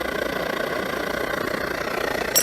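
Vintage roarer burner stove running at full throttle, a steady, close, continuous roaring rush with a low rumbling flutter, alone without talk and constant in level throughout.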